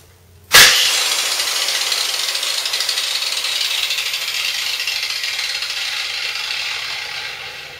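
An angle grinder starts with a sharp spin-up and then whirs loudly, its hiss fading slowly over several seconds as it winds down. No voices.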